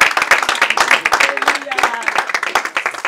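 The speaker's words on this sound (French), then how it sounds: "qu'on acclame très fort le Seigneur ce soir" A church congregation at a prayer meeting claps, the rhythmic, sharp hand-claps close and loud, running steadily throughout, with voices mixed in among the clapping.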